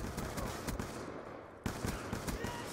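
Rapid video-game gunfire on the Nuketown map in Call of Duty, a steady run of automatic shots that pauses briefly and then resumes, heard at low level with some speech mixed in.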